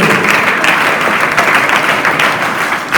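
Audience applause fills an indoor school training-camp inauguration ceremony, steady dense clapping from a crowd held at an even level throughout, with no talking over it.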